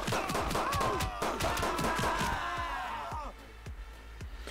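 Rapid, repeated gunshots from a handgun in the Midnight Fight Express action game, a steady run of sharp cracks over a busy game soundtrack, thinning to a few scattered shots at the end.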